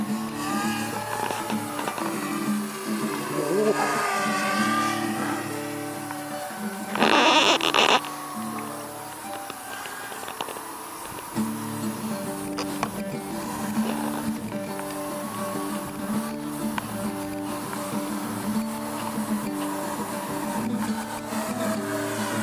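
HiSky HMX280R Talon racing drone motors whir in a high, rising and falling whine, with one brief louder surge, continuing steadily throughout with no talking.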